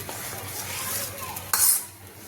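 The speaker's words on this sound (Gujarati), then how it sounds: "હવે આપણે બરાબર મિક્સ કરી લઈશું।" A spoon stirs gram flour batter for patra in a bowl, giving soft wet swishes and a sharp clink of utensil against the bowl partway through, close and alone without speech.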